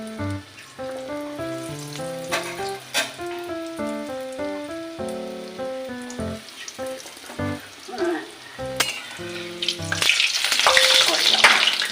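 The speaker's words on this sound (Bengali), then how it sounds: "এবার আমি একটা একটা করে দিয়ে ভেজে নিচ্ছি" Banana flower chops sizzle in hot white oil, a steady frying hiss that swells louder near the end, partly buried under a melodic musical backing.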